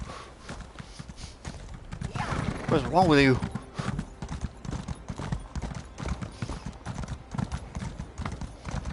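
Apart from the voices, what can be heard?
horse hooves clip-clopping, riding a horse in Elder Scrolls video game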